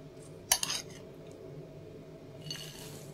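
Metal spoon scraping and clinking in a bowl while potato cake mixture with walnuts is stirred, a brief loud burst of clatter followed by softer scraping, over quiet room noise.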